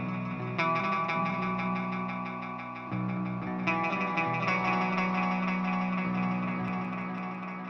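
A dense music mix runs throughout with a delay effect whose feedback sets echoes repeating and smearing the sustained chords, the layered tones shifting in places and staying loud and steady with no voices.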